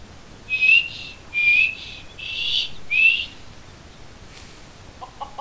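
In the video game Skyrim, a character whistles several short rising notes in a row, clear and fairly close, followed by a few faint clicks and no talk.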